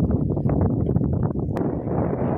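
Strong wind buffets the microphone in a steady low roar while running among rice fields, with a brief sharp burst partway through.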